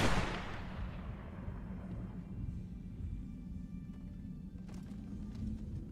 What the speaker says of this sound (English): The gunshot that follows will still ring in your ears forever.